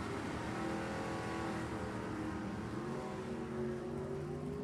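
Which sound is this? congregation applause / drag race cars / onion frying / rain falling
drag race cars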